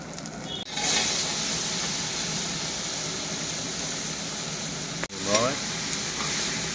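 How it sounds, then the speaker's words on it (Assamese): Ginger, garlic and chili paste sizzles loudly in hot oil, a dense continuous hiss broken by two brief clatters as something is added or stirred, with no talking. "তেলতে ফ্ৰাই কৰি লওঁ আগতে।"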